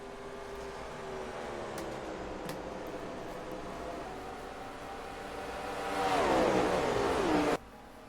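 Race cars lap Homestead-Miami in a sim racing game, a steady engine drone with a pitch sweep as a car passes close, the sound growing louder near the end before cutting off abruptly.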